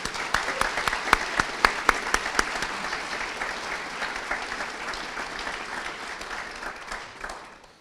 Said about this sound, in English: Let's have another round of applause for John.